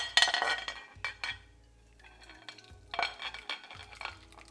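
Red lentils go into a pot off the heat over a leek and onion tadka for a coconut dal, giving close, bright clinks and rattling scrapes in a few short bursts, with no voices.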